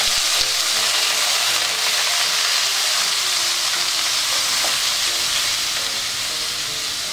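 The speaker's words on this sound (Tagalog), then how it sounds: "Kapag mainit na yung cooking oil, ilalagay na natin dito yung seafood." Shrimp frying in hot cooking oil for seafood pancit canton, a loud, steady sizzle with a constant crackling hiss throughout and no talk.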